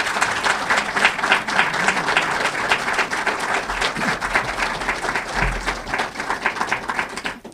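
Sustained audience applause at a Four Score speaker series event in Springfield welcoming historian Harold Holzer, a steady dense wash of many hands clapping at fairly close range throughout, with no talking over it.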